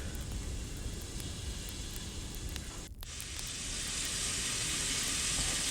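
Pork sizzling and frying in a covered pan, a steady broadband hiss that holds throughout with one brief dip near the middle, no voices.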